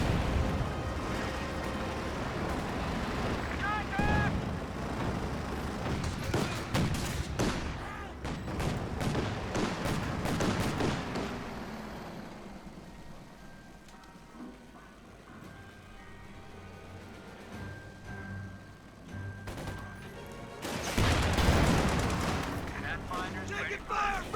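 Nebelwerfer rocket artillery from Company of Heroes 2 thunders in a dense, chaotic battle mix, with bursts of heavy booms and gunfire surging early and again near the end, with a quieter rumbling lull between.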